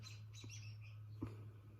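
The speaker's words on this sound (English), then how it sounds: "That bird was so loud for no reason." A nearby bird gives loud, sharp chirps, a few quick tweets in succession, over a steady low electrical hum indoors.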